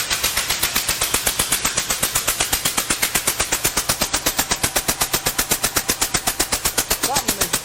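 A loud C4 Corvette engine runs with an exhaust leak, a rapid, evenly spaced popping chatter close to the microphone that keeps up without a break.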